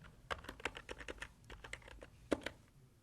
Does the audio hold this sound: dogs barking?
no